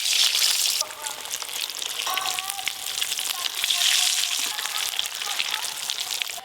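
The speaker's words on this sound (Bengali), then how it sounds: "এই যে সেদ্ধ করে রাখা আলুগুলো ভালো করে একটু ভেজে নেব।" Boiled potatoes fry in hot oil for a Hyderabadi-style dum biryani, giving a loud, continuous sizzle that swells and eases with faint crackling, close up and alone.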